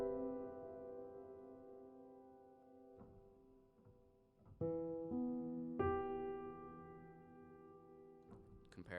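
Piano chords drenched in long reverb that swells behind each strike like a sustained synth pad, the reverb ducking under the attacks in sidechain fashion; a few soft, spaced chords at moderate level with no talking.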